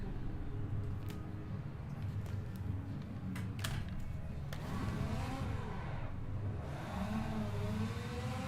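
Formula 1 car in Assetto Corsa during practice at the Australian GP track, the engine note dropping low under braking then sweeping back up through rising revs, fairly quiet, with faint clicks and sharp transients scattered over a constant hum.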